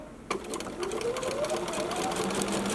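A sewing machine stitches fabric for a quilt album block, starting with a sharp click and then running in a steady, close, rapid mechanical whir.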